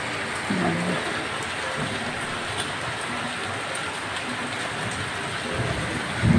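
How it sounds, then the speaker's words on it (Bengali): Steady rain pours down in a broad, even hiss while thunder rolls as low rumbles near the start and again at the end, fairly distant and muted. "ওই দেখো মেঘ ডাকছে, বৃষ্টি পড়ছে"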